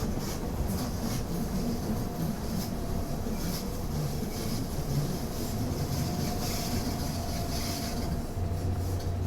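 Train running on a metre-gauge line between Tirano and Poschiavo in Train Simulator, a steady low rumble of wheels and motors filling the whole stretch, with no talk over it.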